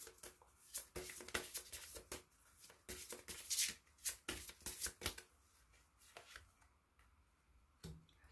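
Tarot cards are shuffled close up by hand in quick, irregular bursts of crisp riffling and slapping, fading to quieter handling near the end.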